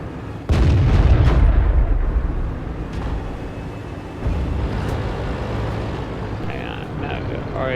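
A tank cannon fires in the World of Tanks video game, one loud booming shot with a rumbling tail, then continuing engine and battle rumble with a fainter second thud later.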